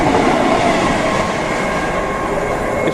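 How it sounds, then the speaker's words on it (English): A Bishop's Stortford train passes through Angel Road station, a loud, steady rumble of wheels and rolling stock that holds close and continuous, with a faint high whine over the roar. "So that's the Bishop Stortford train."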